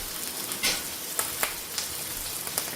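Salmon fillet sizzles skin-side down in a pan, a steady close frying hiss with a few small pops and spatters, no voices.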